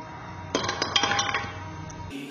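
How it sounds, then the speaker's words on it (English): Ice cubes drop into a glass for a Dalgona coffee, a quick cluster of bright clinks and knocks ringing close up, followed by a short quiet pause. "We're going to add some ice cube."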